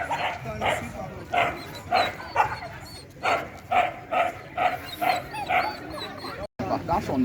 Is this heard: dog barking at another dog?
yes